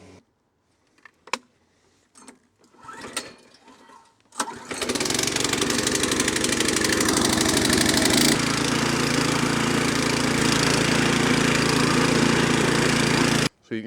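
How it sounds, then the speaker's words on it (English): A few clicks and handling knocks come first, then a powered verticutter engine starts and runs loud and close on a lawn with a steady mechanical roar. Its tone shifts slightly partway through, and it cuts off near the end. "So our next task is we're going to do some light verticutting."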